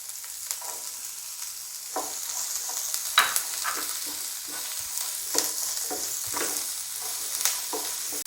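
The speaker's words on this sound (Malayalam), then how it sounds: "അതിലേക്ക് അരിഞ്ഞു വെച്ചിരിക്കുന്ന നമ്മുടെ സവാളയും കൊച്ചുള്ളിയും കൂടി ഇടാം." Sliced onion and shallots with ginger and garlic sautéing in hot oil for a Kerala squid thoran, a steady sizzle broken by repeated scraping stirs of a spoon in the pan, close and moderately loud, no talking.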